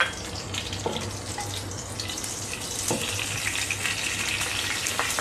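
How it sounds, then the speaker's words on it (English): Mustard seeds splutter in hot oil, a dense continuous crackle and hiss with a few sharper pops, steady and close throughout. "If I add it before becoming hot, the mustard seeds will not splutter."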